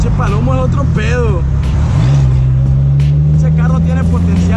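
A Dodge SRT-4 car engine accelerates at night, a loud, steady engine drone rising in pitch and then holding under continuous talk from people inside the car.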